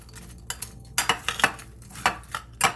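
A utensil scrapes and lifts sticky honey-bound walnut and dark chocolate snack pieces off a pan, giving a scattered run of close metallic clinks and scrapes at an irregular pace, with no one speaking.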